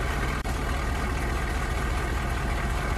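A road roller's engine idles in a kids' construction vehicle game, a steady loud drone with one brief dropout near the start.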